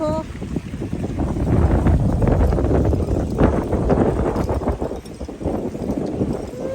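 Strong wind, strong enough to break trees, roars steadily across the microphone in a continuous rushing buffet, with faint voices underneath.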